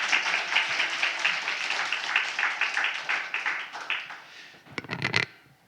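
A church congregation applauds to welcome the pastor at a Sunday service, a full burst of many hands clapping that thins out into scattered claps, followed by a few sharp knocks and handling noises.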